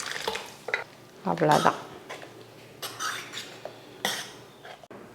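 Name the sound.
stirring cooked dal into radish sambar in pot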